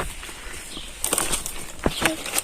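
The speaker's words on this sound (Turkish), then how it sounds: "Kuşlar niye gelmiş? Buraya gelmişler" Birds flap their wings in the dark near a child, with a few short, soft flutters and rustles building in the second half over low background noise.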